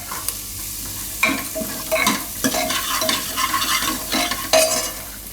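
Peas and corn being stirred into a pan for macaroni pasta soup, with repeated scraping strokes over a steady sizzle, close and fairly loud.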